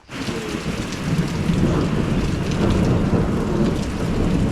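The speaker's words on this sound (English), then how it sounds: "So the storms come in" A mountain thunderstorm on a hiking trail, with steady heavy rain hissing down and thunder rumbling continuously, the downpour building slightly after the first second and staying loud throughout.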